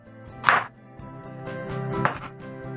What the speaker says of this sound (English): Pick 1 onion and cut into large wedges